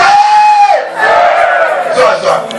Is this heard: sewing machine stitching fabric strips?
no